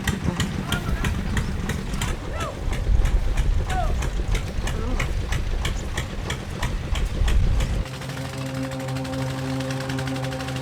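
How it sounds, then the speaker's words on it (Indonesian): A mining dredge machine engine runs with a heavy, steady low rumble under people talking, then shifts to a smoother droning hum with a steady tone partway through. "Di lokasi ini realitas mendapat 2 mesin rajuk yang dioperasikan oleh penambang."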